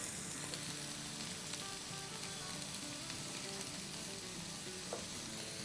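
Okra fries in a hot pan, seasoned with salt and red chili, giving a steady, close sizzle with faint stirring scrapes throughout and no voices.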